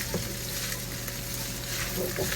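Chinese fried rice with bacon and broccoli sizzles steadily in a hot pan while being stirred, a continuous close frying hiss with faint scraping.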